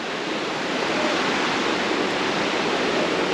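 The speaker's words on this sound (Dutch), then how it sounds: "we zijn er bij de waterval" A tall, narrow waterfall on Tahiti gives a dense, steady roar of falling water, close and even from start to finish with no voices.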